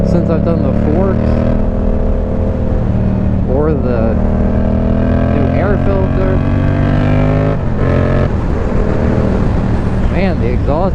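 A Yamaha MT-07 motorcycle with freshly done forks, ridden on a back road, its engine droning loud and steady with rising and falling revs as gears change, and a rider talking over it throughout.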